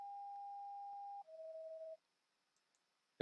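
Dispatch tone board alert: a two-tone page, a steady higher beep held just over a second, then a slightly lower tone for under a second, clean and moderately loud, followed by quiet and a click.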